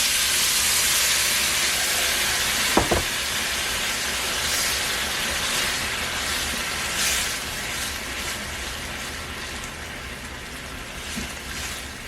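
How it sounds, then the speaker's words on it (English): Broth for a barley risotto simmering in a pan gives off a steady, even hiss of fine bubbling throughout, with one soft knock early on. "You see how that broth is simmering so nice, right?"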